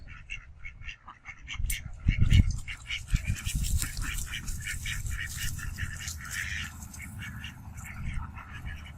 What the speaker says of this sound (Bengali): দেখেন হাসে ডাকছে এই যে দেখেন